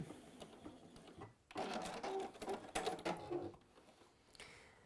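A sewing machine runs in short bursts sewing a small holding stitch, its rapid mechanical whirr and clatter loud in the middle stretch with quieter handling noise before and after.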